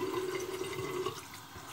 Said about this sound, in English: let me rinse the razor. Rinse my face off.